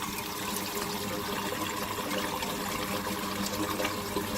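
Water rushes steadily through a fitting under 40 psi of house pressure, a continuous close hiss and gush with no breaks and no talk.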